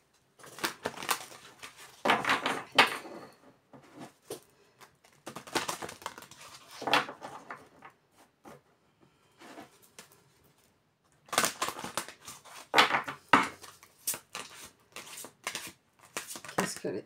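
Cards for a tarot-style reading for Virgo in January are shuffled and drawn in several short, crisp bursts of riffling and slapping, separated by quiet pauses.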